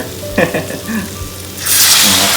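Black pepper being stir-fried for a spicy wild-meat dish bursts into a loud, close sizzle in the pan, a dense hiss that takes over near the end after a brief stretch of someone speaking.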